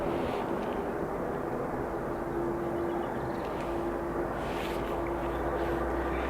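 An Airbus A330 airliner departs Dublin Airport, a continuous, heavy jet roar that holds steady throughout at a distance, with a faint tonal whine riding over the rumble.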